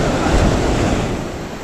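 Rough sea heard from a fishing boat off the Konkan coast: a loud, steady roar of surf and waves with wind buffeting the microphone, continuous and close, with no voices.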